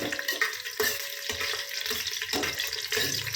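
Slit green chilli hits hot oil while tempering for mushroom biryani, giving a steady close sizzle broken by stirring scrapes and clinks of a spoon against the pan.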